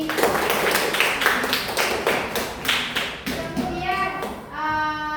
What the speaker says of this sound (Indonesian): tepuk tangan buat Abi